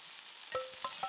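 Egg and vegetables stir-frying in the pixel-art video game Eastward, a soft game sizzle with a few quick stirring taps and short chimes toward the end.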